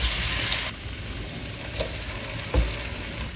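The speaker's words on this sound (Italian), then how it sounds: "Facciamo cuocere le patate insieme alle cipolle." Potatoes and onions fry in olive oil in a non-stick pan, a steady close sizzle that drops slightly after the first moment, with a couple of brief clinks or stirs.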